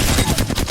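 Weapon hip-fired in the game Apex Legends, a fast continuous stream of loud, close gunshots in tight rhythm filling the whole brief moment.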